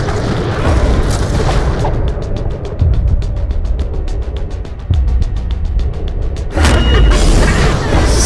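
Gunfire in the shooter game Borderlands: The Pre-Sequel, with a dense run of rapid, evenly spaced shots that rattle loudly over a constant booming, noisy game mix, with heavier blasts at the start and end.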